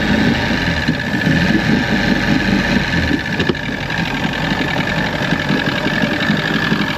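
A 1996 Force 120hp outboard motor idles steadily, a continuous mid-pitched engine drone with a faint knocking texture running evenly for the whole stretch without any voices.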